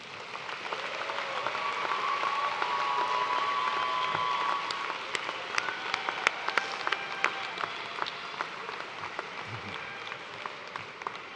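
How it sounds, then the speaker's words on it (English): A large graduation audience at a University of Toledo spring commencement ceremony claps, swelling to a full, distant-sounding ovation and then breaking into scattered, sharper individual claps as it winds down. "Graduates, please join me now in giving a round of applause to thank these special people."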